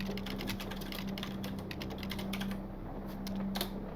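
Keys clack on a computer keyboard in the game Stories Untold, in quick, uneven bursts of close, crisp strokes over a faint steady hum.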